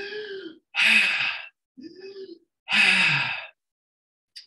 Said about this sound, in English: It's going to be an inhale fully, exhale fully out the mouth.